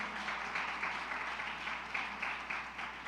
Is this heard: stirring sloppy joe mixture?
no